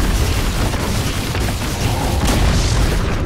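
A tower collapses in Dota 2, a heavy sustained booming rumble that fills the moment loud and close, with no talk over it.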